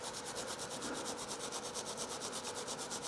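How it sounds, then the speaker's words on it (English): Rapid rhythmic scratching as oxide is scrubbed off aluminium before TIG welding, a continuous close rasping stroke repeated evenly with no talking. "You've got to scratch that oxide off."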